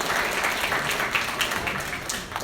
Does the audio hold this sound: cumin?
no